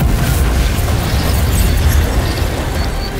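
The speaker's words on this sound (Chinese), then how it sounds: "众鬼船听令，真元炮发射" Energy cannon fire from an armada of ghost ships in an ancient-style fantasy animated series, a loud, dense, sustained rumbling blast of explosions with no break.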